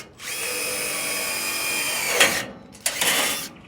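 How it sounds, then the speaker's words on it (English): A power drill pre-drills a hole in timber for an outrigger, its motor whining steadily and close for about two seconds, then winding down before a second short burst. "Pre-drill,"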